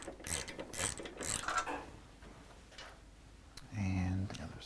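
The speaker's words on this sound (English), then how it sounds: "Pull these front bolts that were underneath those covers." Ratchet clicks while removing the front fuel tank bolts from a motorcycle, in short bursts mixed with handling noises and a brief mechanical whir near the end, close by.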